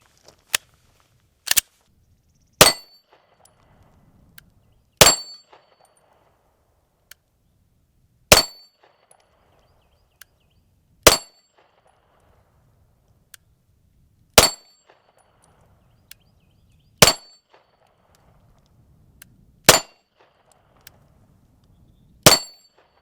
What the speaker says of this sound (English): Those are literally the first rounds that I fired.